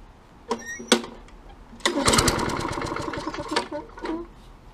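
A lawn mower, just given gas after storage and with a plugged-up carburetor, gives a couple of brief pull attempts before sputtering into rough running for a few seconds, then fades.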